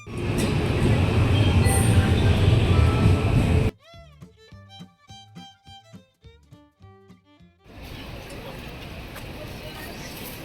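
Metro train ride in Japan during rush hour, a loud steady rumble of the moving carriage that cuts out for a few seconds of quieter tonal chiming and clatter before the running noise returns.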